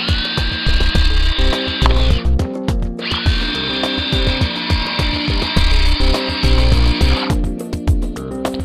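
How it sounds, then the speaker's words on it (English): A power drill with a 10 mm bit bores through a plastic cover, loud and close, its motor whine rising in two long runs broken by a short pause, with a rough grinding chatter throughout as the bit cuts. "We are now going to drill the plastic cover with a 10 millimeter"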